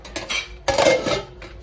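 Metal clatter of a lid being set onto a cooking pot on a low flame, a few sharp clinks and a louder ringing clang in the middle, close and alone.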